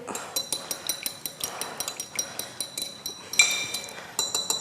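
Quinoa salad tossed with pepper and salt in a dish, giving a quick run of rhythmic clinks and scrapes of utensil against the dish, close and fairly loud, with no talking.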